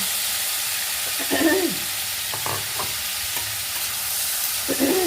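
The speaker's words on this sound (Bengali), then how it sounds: "এইভাবে নেড়ে চেড়ে ভাজবো গ্যাস বাড়িয়েই দিয়েছি" Thinly cut pumpkin stir-fried uncovered in a pan over high gas flame: a continuous sizzle with intermittent scraping and stirring strokes of a spatula, close and clear.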